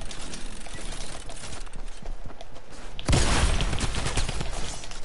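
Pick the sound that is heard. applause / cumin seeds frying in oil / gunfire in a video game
gunfire in a video game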